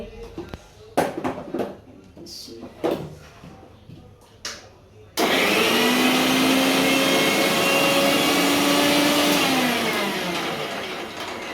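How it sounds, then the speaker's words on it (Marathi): Kitchen mixer grinder whirring loudly as it grinds a spice paste for onion curry, starting abruptly after a stretch of clatter and faint voices and running steadily close by to the end. "मिक्सर मध्ये काढते"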